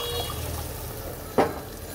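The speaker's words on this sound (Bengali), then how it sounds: "এখন আমি এর মধ্যে দিয়ে দেব হচ্ছে ঝোলের জল।" A single short splash of water poured into a pot of aloo dum, Bengali potato curry with fried spices, standing out briefly against a steady low kitchen hum; no talking.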